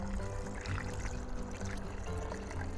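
Yakut kumis, fermented mare's milk, pours steadily into a container with a continuous low liquid gurgle and splash, faint and close, without talk.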